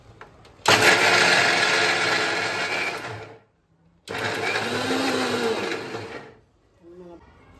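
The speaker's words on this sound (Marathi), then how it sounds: "हे सगळे एकत्र मिक्सरवरती काढूया।" A mixer grinder roars loudly grinding chili, dal and raw mango in two long bursts, about three seconds and two seconds, with a brief silent pause between and a softer tail after.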